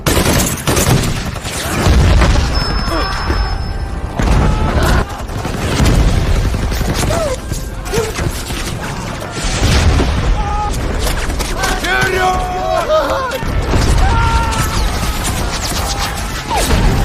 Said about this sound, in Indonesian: Mereka langsung disambut oleh pasukan Jerman dengan serangan senapan mesin dan mortir